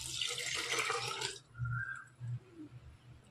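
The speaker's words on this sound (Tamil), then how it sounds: "இப்போ இந்த ஸ்டேஜில் வந்து நம்ம கடைஞ்சி வச்சுருக்க பருப்பு தண்ணியை ஊற்றிடலாம்" Lentil water pours steadily into a cooking pan with a splashing rush for over a second, then stops, leaving faint bubbling and clinks.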